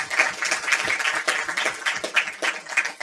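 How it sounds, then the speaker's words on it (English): Audience applause for a woman at a book launch interview in a Dunnes Stores shop, a dense, steady patter of many hands clapping that carries on throughout without speech. "a round of applause for that woman"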